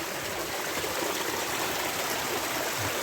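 Small stream trickling over moss and rocks in a shaded spot at Swatara Gap State Park, a steady close babble of water with no breaks and no voices.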